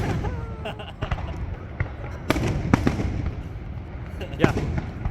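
Canada Day fireworks burst in a series of sharp, booming cracks at irregular intervals, some close and loud, with people talking nearby between the blasts.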